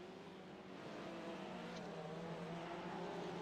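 A heavily damaged Ferrari race car in a GTD sim-racing event limps toward the pits, its engine a steady, droning whine with a faint pitch shift, heard alone and fairly close.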